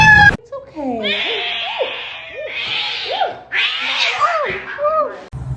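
A kitten meows repeatedly and loudly close by in a run of high, drawn-out and rising-falling cries with short gaps, after a brief burst of other sound at the start.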